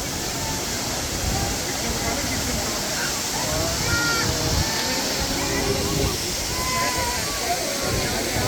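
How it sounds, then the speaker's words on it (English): Waterfall water crashing down, heard from the top of a bridge as a steady, loud roaring wash with no breaks. "Here's the view of the waterfall from the top of the bridge. See the water crashing down?"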